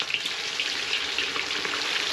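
Pieces of wild duck fry in a pan with a steady, close, broadband sizzle and crackle. Small pops break through now and then, and no one talks.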